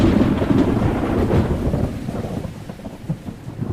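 Steady heavy rain pours down while low thunder rumbles through it, as a sound effect in a detective audio drama. The rumble is strongest at first, then eases while the rain keeps on, with no voices.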